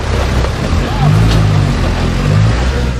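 A bus engine labors and revs hard while the bus sits stuck in deep mud on a rough road, a loud continuous droning strain that rises and holds, with some voices under it.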